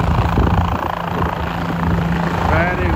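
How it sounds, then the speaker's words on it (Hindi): A helicopter lands nearby in the mountains near Sissu, Manali, with a loud, steady rotor and engine roar filling the whole stretch, its churning blades heard up close. "मुझे लेने हेलीकॉप्टर आ रहा है। हाँ बस बस बस, अच्छे से लैंडिंग करना"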